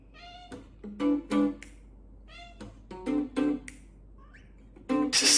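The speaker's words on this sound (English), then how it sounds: "We love Blue's cat, dude" A domestic cat meows repeatedly in a string of clear, close cries, with short pauses between them and a louder, harsher call at the end.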